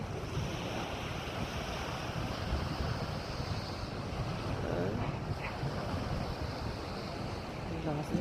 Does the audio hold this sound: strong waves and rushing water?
yes